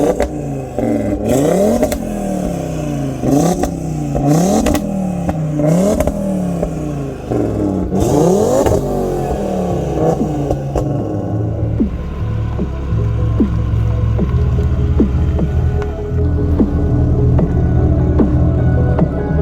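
A tuned Mk3 Audi TT RS making about 510 to 530 horsepower roars through repeated hard gear pulls, its engine note climbing and dropping sharply with each shift before settling into a steady loud cruising drone, close and forceful.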